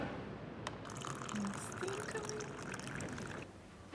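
Water pours steadily into a glass or jug for a morning lemon ginger drink, a soft continuous liquid splash lasting a few seconds before stopping, close and quiet.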